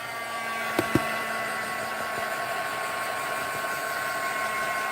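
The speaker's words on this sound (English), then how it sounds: "let's give her another blast with the dryer." A hair dryer blowing steadily on a watercolor Christmas card, a constant close whooshing hum with a couple of brief knocks near the start, no talking.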